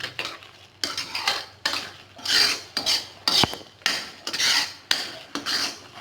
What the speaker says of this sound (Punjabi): ਬਸ ਹੁਣ ਆਪਾਂ ਇਹਨੂੰ 3-4 ਮਿੰਟ ਤੱਕ ਭੁੰਨ ਲਵਾਂਗੇ